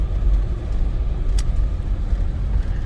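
A Force Gurkha SUV climbs a mountain road in second gear, its engine giving a steady, low, even rumble from inside the cabin with road noise beneath and no voices.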